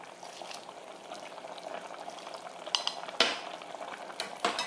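Cabbage simmers with a little sauce in a saucepan for lamb couscous, a soft steady bubbling and sizzle, with a few sharp clinks of a utensil against the pan near the end.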